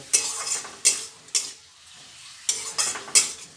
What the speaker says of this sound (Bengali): বেটে রাখা যে মশলা পেঁয়াজ রসুন আদা কাঁচা লঙ্কা এটা দিয়ে দিচ্ছি এবার এটাকেও ভালো করে এর সঙ্গে নাড়িয়ে নেব